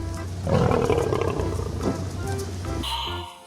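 Toy African lion with a tail attached lets out a loud electronic roar that swells for about two and a half seconds, then gives way to a brief higher squeal at the end, close and alone with no talk.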